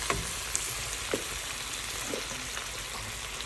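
Chicken and potato fry in a pan with a dense, steady sizzle close by, broken by a few soft taps and stirs, and no talk over it.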